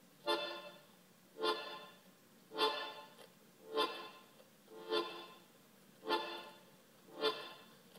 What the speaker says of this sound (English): Another type of rhythmic accompaniment is called a marcato in 2